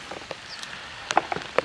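Rain falling in a Siberian village gives a faint background hiss broken by a few sparse, distinct drips and taps on a surface nearby.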